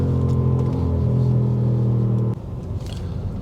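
Deep steady engine rumble from a 2023 Audi S8 facelift in ultra blue metallic, cruising with automatic upshifts; a continuous low drone holds for over two seconds, then drops as a gear changes and settles into a lighter hum.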